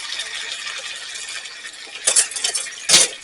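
A tablespoon of garlic goes into softened onions in a pan and is stirred for a gluten-free, dairy-free smothered chicken, with a soft steady sizzle and two sharp utensil clinks against the pan near the end.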